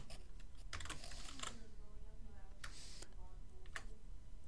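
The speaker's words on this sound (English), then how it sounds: "I can type here." Typing on a computer keyboard in a Google Docs document, quick bursts of soft key clicks at close range over a steady background hiss.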